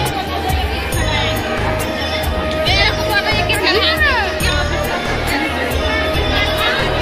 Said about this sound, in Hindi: यहाँ पर मेले की वजह से आज बहुत भीड़ है।